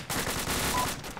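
Dense, close automatic gunfire in the military video game Arma 2, a continuous rapid burst that fills the whole moment with no speech over it.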